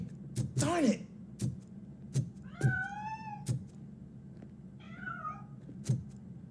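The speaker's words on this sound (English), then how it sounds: "That cat must be hiding inside. Let me lure it out." A cat in the video game RoboCop: Rogue City meows a few times, faint and spaced apart, over a low background with soft thumps.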